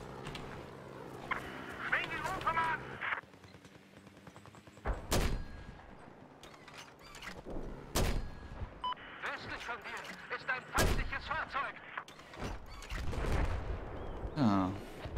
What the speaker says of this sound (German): Dann packen wir hier den Mörser aus.